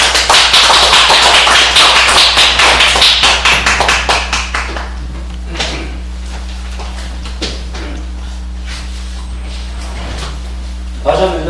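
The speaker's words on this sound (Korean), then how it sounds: "모실 때 큰 박수 주시기 바랍니다." Applause from a seated audience of elders welcomes a lecturer to a health and mind-body activity session. It is loud and quick at first, then thins into scattered claps that fade out, with a steady hum underneath.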